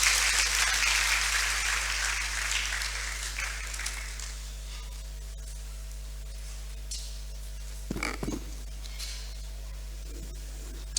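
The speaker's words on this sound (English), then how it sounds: "Please let's welcome him with a round of applause." Applause from a seminar audience on justice beyond the courtroom, fairly strong at first and then thinning and fading into a quiet room, with a steady low hum underneath and a brief knock near the end.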